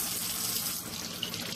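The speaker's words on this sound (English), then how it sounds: "First, wash the crab in warm running water to remove all the sand traces." Warm tap water runs in a steady, soft rush over a crab being washed clean of sand while making a Madurai-style crab curry. The splashing is even and close, with no voices.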